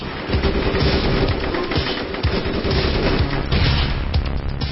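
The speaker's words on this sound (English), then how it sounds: "Oh no, they're shooting at us." Dense gunfire from the online shooter game APB crackles in rapid bursts with booming impacts, a loud and continuous barrage throughout.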